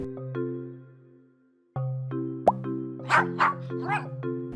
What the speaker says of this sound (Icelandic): Hvolpur.